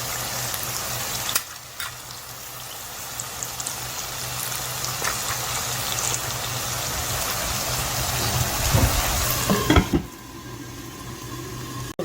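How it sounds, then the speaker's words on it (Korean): Lotus root simmers and reduces in its braising sauce, a continuous soft bubbling hiss close by with a low steady hum beneath and a few knocks near the end. "얘 지금 국물이 다 졸 정도로 이걸 졸여야 되거든요. 그러니까 이제 은근히 졸이겠습니다"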